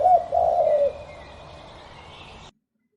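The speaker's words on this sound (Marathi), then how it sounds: "dove dove म्हणजे पारवा." A dove gives a low, soft coo near the start, a brief hollow call followed by a fading tonal tail before silence.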